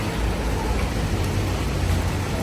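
Continuous rain falls as an even, dense broadband hiss at a car shop, steady and unbroken with no talk over it.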